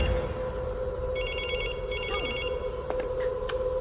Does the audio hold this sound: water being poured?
no